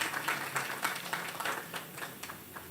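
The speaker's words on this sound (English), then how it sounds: "I think that deserves for them a round of applause." An audience at a street renaming ceremony applauds with brisk, close clapping from a modest crowd that gradually thins toward the end.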